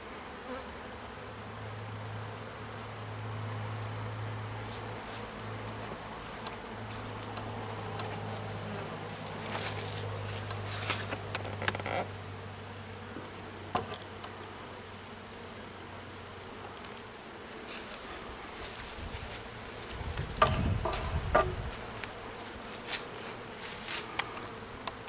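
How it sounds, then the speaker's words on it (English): Honey bees buzz steadily around the hive as foragers try to get back in during oxalic acid treatment, a dense insect drone with occasional louder passes and soft tapping nearby. "All the bees that were foraging and trying to get back in."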